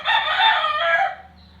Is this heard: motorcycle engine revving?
no